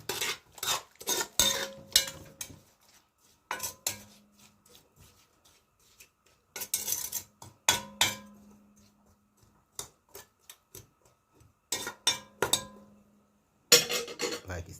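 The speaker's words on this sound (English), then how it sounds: "So I'm going to stir it." A spoon stirs coconut drops mixture with sugar in a pot, making bursts of metallic scraping and clinking against the pot with short quiet gaps between, close and fairly soft.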